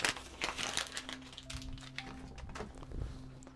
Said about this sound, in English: Pull it straight off, get rid of that backing paper.